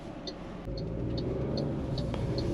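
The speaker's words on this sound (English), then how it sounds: "the vehicle is trying to kick in its turbo and trying to rev it up to give you the power" Engine of a 2023 MG ZST 1.3 turbo SUV revving under acceleration as the turbo spools, a steady mid-loud rumble heard from inside the cabin with faint periodic ticking above it.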